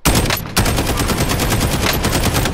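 Rapid automatic gunfire at an enemy in Warzone, a loud dense burst with a brief gap near the start, then sustained rattling shots close by.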